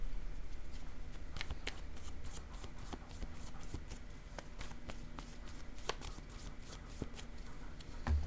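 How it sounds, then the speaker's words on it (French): Playing cards handled and shuffled on a table in a quiet indoor setting, with repeated soft crisp flicks and taps through a steady low hum, ending with a small clatter as cards drop. "3 cartes sont tombées"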